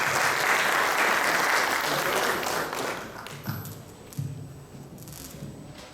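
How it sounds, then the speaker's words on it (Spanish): An audience at a health ministry training event claps loudly at first, then the applause thins out over a few seconds into scattered claps and a couple of isolated louder knocks. "Por favor, la recibimos con fuertes aplausos"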